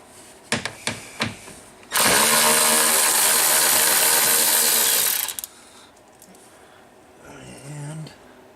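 A socket wrench is worked during a winch install on a 2018 Arctic Cat Textron Alterra 500 ATV. A few sharp clicks are followed by a loud three-second burst of rapid ratcheting, then quieter handling noises, all close up.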